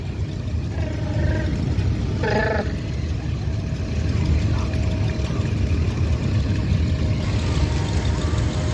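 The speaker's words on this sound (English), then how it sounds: "Now come out with your tractor." A Massey Ferguson 1250 tractor engine idles and rumbles steadily as the tractor drives out, a low continuous diesel drone with faint tonal whines over it and no clear voices.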